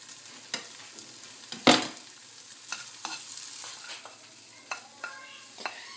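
Cut pieces of razor clam fry in melted butter in a pan, with a steady close sizzle broken by sharp clicks and scrapes of stirring, one loud hit near the start and lighter taps after.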